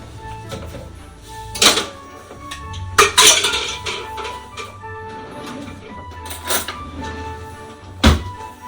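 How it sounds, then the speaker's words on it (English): Apples and cinnamon are quickly mixed in a bowl. Close clinks, knocks and scrapes of a utensil against the bowl come in several sharp bursts over a low background. "And then I'm going to give that a quick mix."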